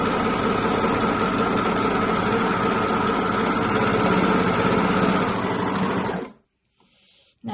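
An overlocker running steadily as it serges knit fabric with neutral differential feed, a loud continuous mechanical whir with rapid stitching rhythm that stops abruptly near the end, leaving near silence.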